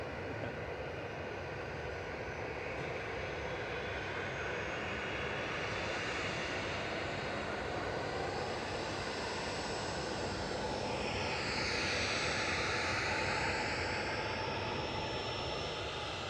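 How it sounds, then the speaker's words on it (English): A Ryanair Boeing 737-800 departs Manchester Airport for Belfast, its jet engine roar steady and distant, swelling slightly toward the end with a faint rising whine. "Ryanair 737-800 departing next to Belfast with flight 191"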